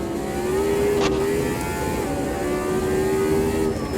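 A 1976 McLaren M23 Formula 1 car in Automobilista 2 drops to second gear, its engine note stepping and warbling through a downshift, loud and close under a constant roaring drone.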